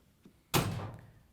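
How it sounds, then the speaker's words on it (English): A Whirlpool dryer door swings shut with a single firm thud followed by a short rattling decay, close by, after a faint tap beforehand. "Now we can close the dryer door"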